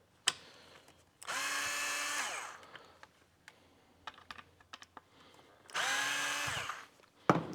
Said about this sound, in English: We're just going to loosen these two screws just to make it a little easier to run the wire here in a minute.